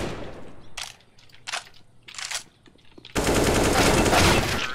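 Negev machine gun in CS:GO firing in short bursts, then a long sustained spray of rapid automatic fire that stays loud and dense to the end.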